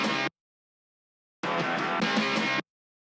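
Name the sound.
guitar part from a song's chorus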